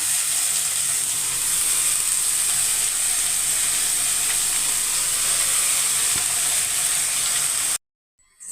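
Greens with their stems, cut up and added to a frying pan of half-softened onion, give a steady, loud sizzling hiss that holds evenly for several seconds and then cuts off abruptly, with no talking.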